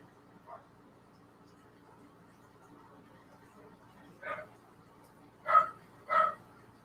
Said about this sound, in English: You hear my dog barking right now.